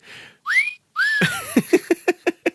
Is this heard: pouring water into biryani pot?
no